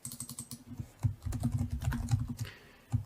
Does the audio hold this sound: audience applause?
no